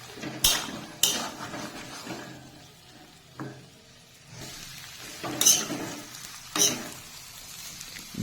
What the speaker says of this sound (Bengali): মাংসের গায়ে মশলা ঢোকার জন্য অল্প একটু জল দিয়ে কিছুক্ষণ নেড়ে চেড়ে নেব।